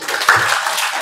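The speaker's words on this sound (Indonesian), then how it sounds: "Tepuk tangan dulu untuk" Audience at a Scout movement regional meeting applauding an official, brief dense clapping in a hall with a faint voice briefly audible beneath it.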